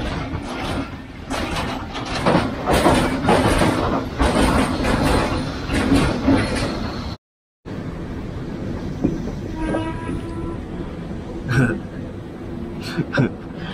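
A loud train rumbles and clatters past a station platform close by, cuts out briefly, then fainter rail noise continues with a few sharp squeals and clanks.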